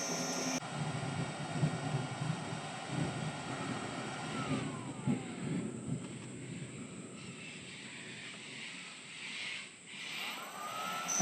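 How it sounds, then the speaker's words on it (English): A Centec milling machine runs in reverse at low spindle speed, giving a steady broadband mechanical drone and motor hum with slight fluctuations throughout, heard alone without talk. "And that's running backwards, which is the right direction for an end mill."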